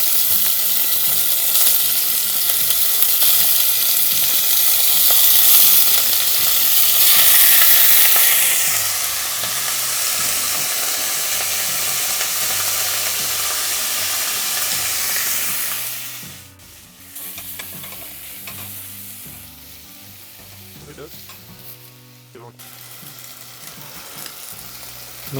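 Ground lamb hits a smoking-hot pan and sizzles loudly and steadily, the frying noise easing after a while into a lower, continuing crackle with occasional stirring, close up and with no talk.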